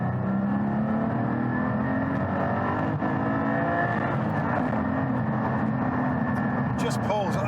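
Porsche Cayman GT4 pulling hard under steady acceleration, a continuous loud engine drone with rising harmonics throughout, heard from inside the cabin.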